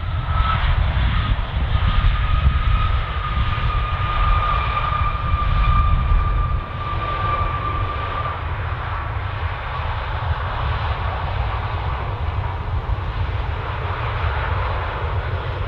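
Airliner jet engines on approach at Stansted Airport, a loud continuous roar with a faint whining tone, steady throughout and easing slightly after about six seconds as it passes.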